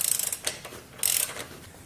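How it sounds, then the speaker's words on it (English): Breaker bar and ratchet working loose the rear axle nut on a Triumph Daytona 675 motorcycle, a few quick close metallic clicks and a short ratcheting burst in a quiet workshop. "you're definitely going to need a breaker bar for this part"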